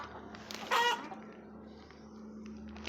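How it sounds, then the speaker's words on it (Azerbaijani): Chicks in a farm enclosure cry out in a short, loud burst of clucking calls, then fall quiet under a faint steady hum. "Cücələr qışqırdı."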